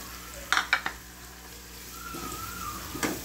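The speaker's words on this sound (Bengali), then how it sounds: "পেঁয়াজ, রসুন, আদা, রসুন আর আদা একসাথে কষাই নিচ্ছি" Onion, garlic and ginger fry together in a pan with a constant sizzle, broken by a few loud spoon-against-pan scrapes and clinks early on and again near the end.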